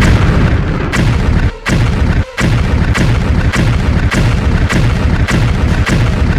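Heavy repeated booms and crashes as buildings are smashed in a Kissy Missy horror video game, about ten loud rumbling impacts in quick, fairly steady succession with brief gaps between them.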